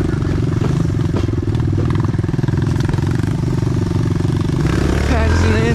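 A pit bike engine revs hard on a mountain bike trail while its rear wheel spins, a loud, steady, close mechanical drone with rising pitch near the end.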